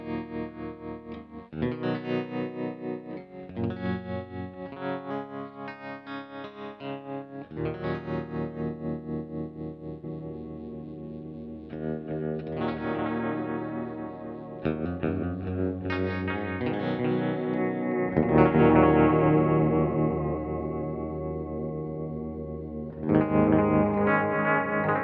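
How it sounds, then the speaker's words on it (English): An electric guitar played through a pedalboard with tremolo and other effects rings out in sustained, pulsing chords, loud and alone, with distortion and shimmering modulation. "Really gorgeous atmospheric sound with that tremolo."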